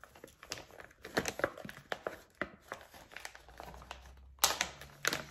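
Crinkly plastic zip-bag packaging holding underwear is opened up close, giving irregular bursts of crackling and rustling with a few sharper snaps and no speech.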